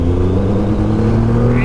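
A Triumph Rocket 3 GT with a 2.5-litre, 165 hp engine pulls hard in third gear from about 2,000 rpm on the road, a deep, steady, loud engine growl recorded up close.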